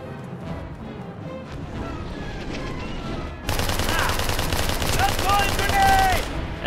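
Submachine gun fire in the Mercenaries 2 video game crackles in dense rapid bursts that turn loud and continuous halfway through, amid layered game explosions and noise.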